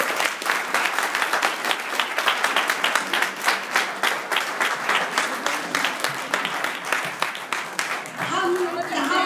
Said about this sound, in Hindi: हम चाहते हैं नीता जी को धन्यवाद हम न कह करके आपकी तालियां कहें थोड़ी देर